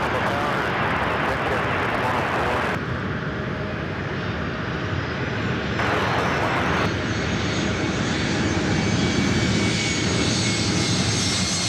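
A jet airliner arriving at LAX from West Palm Beach roars loudly and continuously, its engine noise shifting in tone as it passes, with people talking faintly underneath.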